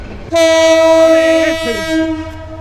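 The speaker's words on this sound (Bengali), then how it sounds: "একসঙ্গে দুইটা ট্রেন বের হয়ে যাচ্ছে এখন চট্টগ্রাম রেলওয়ে স্টেশন থেকে" A train horn blasts one long, loud, sustained tone at Chittagong railway station as two trains pull out together, with a faint rumble beneath and another brief call overlapping mid-blast.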